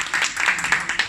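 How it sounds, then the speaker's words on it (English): An audience applauds a volunteer at a Dubai business breakfast, a short burst of steady, fairly close clapping from many hands. "Please give him a warm applause."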